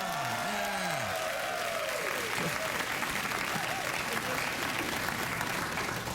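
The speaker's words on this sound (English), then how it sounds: "You go ahead and give yourselves a round of applause." Steady applause from a TV talk show studio audience fills the whole stretch, dense and continuous, with a few voices briefly audible at the start.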